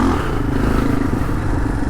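Kawasaki KLR650 adventure motorcycle ridden on a dirt track, its engine thrumming loudly and steadily up close with rattling and scraping from the bike and terrain, no talking.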